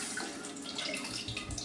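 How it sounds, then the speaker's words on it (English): Tap water runs into a beaker being rinsed in a darkroom, a short continuous splashing gush of water close by. "rinse out this beaker because the developer tends to oxidate"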